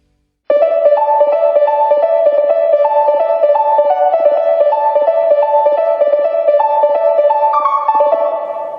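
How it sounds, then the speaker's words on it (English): A remade synth pluck from an FL Studio remake of a song plays a bright, repeating melodic figure of short plucked notes with a reverb wash, steady and loud on its own before trailing off at the end. "I feel that this pluck which I remade is accurate"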